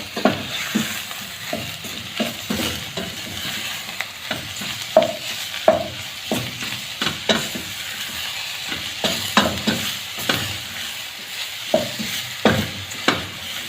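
Mushroom soup ingredients cooking in a pot, stirred with a steady run of scraping, clattering strokes over a constant low sizzle, close and fairly loud throughout.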